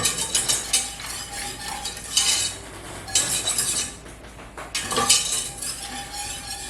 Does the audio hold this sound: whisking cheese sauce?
yes